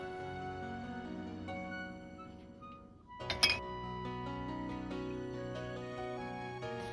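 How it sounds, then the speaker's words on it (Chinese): A spoon stirs soy sauce and oyster sauce in a small bowl, giving a brief cluster of light clinks against the bowl in the middle, over quiet steady background music. "用勺子搅拌均匀"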